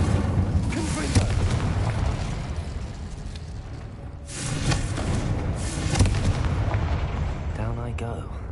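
Explosive Confringo spell blasts in the video game Hogwarts Legacy, booming bursts over continuous rumbling game sound, with a louder impact midway and another near the end, under a voice.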